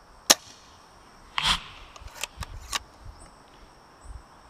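Rifle shots at an outdoor range from a TAC 338 or SSG10, a few sharp distant cracks spaced irregularly over faint wind and background noise.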